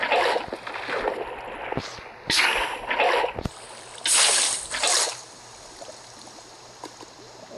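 Minecraft water rushes and splashes in uneven surges, several bright bursts of splashing standing out over a steady flowing background, with no talking.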